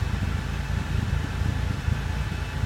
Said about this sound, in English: you can hear that rumbly exhaust